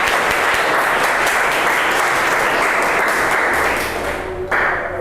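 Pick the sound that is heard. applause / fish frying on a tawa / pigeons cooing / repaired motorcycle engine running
applause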